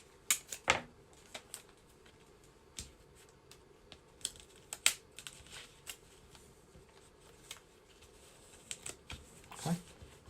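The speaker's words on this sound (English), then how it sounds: "And we are going to tape it in place." Tape being handled and pressed onto a marquetry veneer piece laid face down on a workbench: sparse, quiet crackles and sharp clicks at irregular intervals over a faint room hush.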